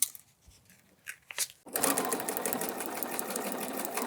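A sewing machine stitches a foundation paper piecing quilt block. After a few faint taps it starts up and runs steadily in a fast, even, close whir until the end.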